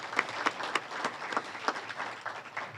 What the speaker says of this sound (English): give Jesse a round of applause